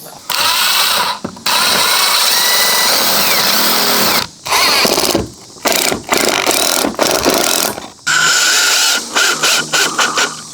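A power tool cuts fence panels to fit at close range, whining loudly in long sustained bursts broken by short pauses and restarts.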